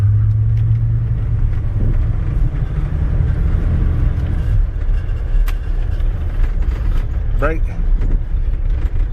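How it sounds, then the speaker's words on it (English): A Chevrolet C10 Silverado pickup's 350 V8 engine rumbles steadily from inside the cab, with someone talking over the road noise throughout. "Man, what a good driving old truck."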